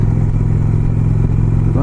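A motorcycle cruises along a highway in Maine, its engine droning loud and steady with a strong low rumble and constant wind rush, close up for the full stretch.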